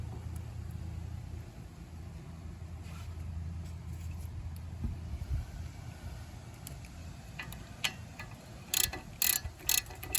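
A 17mm socket on a ratchet works on the brakes of a 2007 Ford Edge, a quiet low rumbling background giving way to a few sharp clicking ratchet strokes near the end, close by.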